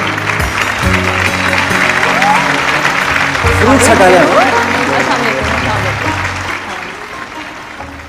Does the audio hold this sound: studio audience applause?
yes